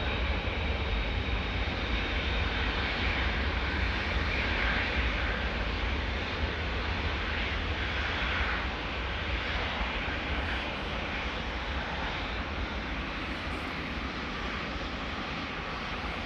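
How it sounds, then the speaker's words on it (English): A KLM Boeing 787-10 Dreamliner departing Amsterdam Schiphol, its jet engines giving a continuous broadband roar that holds steady and then fades slightly as the airliner climbs away. "787-10 Dreamliner."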